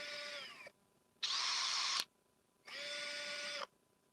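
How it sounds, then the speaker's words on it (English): An impact driver running at max speed while rebuilding brake calipers on an F150 gives two loud, close whirring bursts, each under a second long, with quiet gaps and a fainter tone before them. "I'm using an impact driver on this one"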